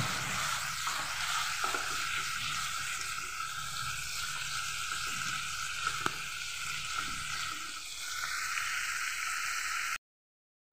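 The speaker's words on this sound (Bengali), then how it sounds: "ভেজে নেব আমি পেঁয়াজের সাথে।" Chicken pieces frying with onions in a pan for a desi chicken jhol, giving a steady, continuous sizzle with occasional small crackles, close and even in level until it cuts off near the end.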